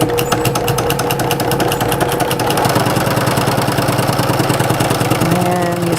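A sewing machine runs steadily while stitching a French seam with a half-inch seam allowance, giving a fast, even mechanical rattle that goes on without a break the whole time, close and fairly loud.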